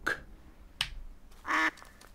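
A duck quacks in Duckside, giving three loud, close, separate quacks with the last one drawn out, set against a quiet background.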